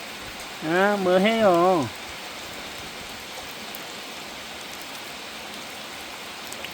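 Steady rain falls outside near a farm, a constant close hiss that runs throughout, while a voice briefly speaks over it near the start.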